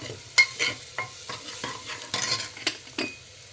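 Pav bhaji is stirred in a pan at close range, with a rhythmic series of scraping strokes over a low sizzle and no talk.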